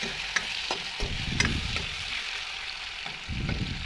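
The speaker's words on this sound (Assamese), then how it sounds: "ইয়াত পনীৰবিলাক ভাজি ল'ম" Paneer cubes frying briefly in hot oil for a dhaba-style paneer masala curry: a steady, close sizzle with occasional scraping stirs and small crackles, no voices.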